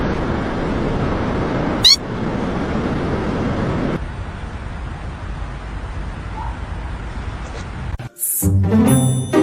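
A pet cat meows a few times at close range in a home, heard over steady background noise, with a brief louder burst near the end.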